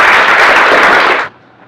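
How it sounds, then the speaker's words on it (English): Dense audience applause for a storyteller at a live storytelling show, a loud, steady wash of clapping from a crowd that holds for over a second and then stops abruptly, leaving a quiet room. "let's please give a big round of applause and warm welcome"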